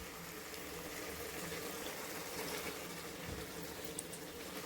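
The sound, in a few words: yogurt-marinated soya chaap added to hot oil and cooking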